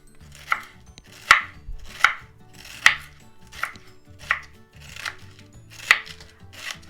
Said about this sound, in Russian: Начинаю нарезать капусту с уголка.